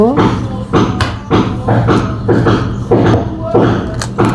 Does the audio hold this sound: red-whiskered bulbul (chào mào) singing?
no